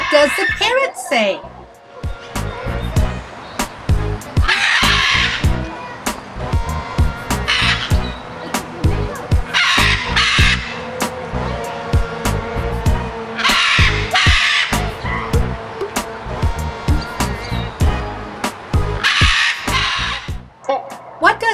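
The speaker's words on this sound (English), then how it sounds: "What does the parrot say?" Harsh parrot squawks in recurring loud bursts, set against voices and a steady musical beat.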